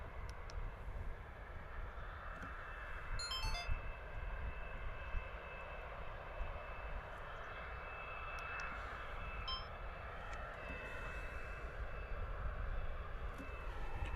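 Distant, steady drone of a Ryanair airliner passing over Bristol Airport, a low continuous engine rumble mixed with wind and a few faint bird chirps, no speech.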